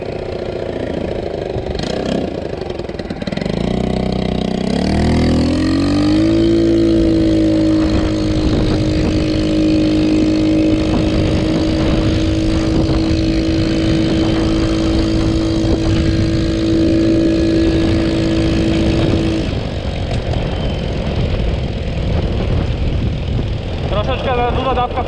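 A small scooter engine with an untuned carburetor, running slightly rich, revs up, then settles into a loud, steady idle with a slightly rough, sputtering note before easing down near the end.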